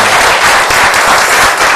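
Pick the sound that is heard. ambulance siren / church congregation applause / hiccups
church congregation applause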